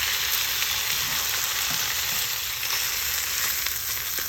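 Almond-crusted orange roughy fillets fry in oil, giving a steady close sizzle and crackle with faint stirring sounds underneath and no speech.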